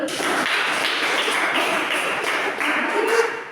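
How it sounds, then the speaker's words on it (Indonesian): A group of students clapping together in a classroom during a group guidance session, a dense, steady patter of hands that runs loud and unbroken from start to finish. "tepuk tangan dulu"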